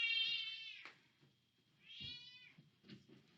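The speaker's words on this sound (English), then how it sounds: "She's meowing too much." A cat meows loudly twice, long drawn-out cries with a pause between, followed by a shorter, fainter meow near the end.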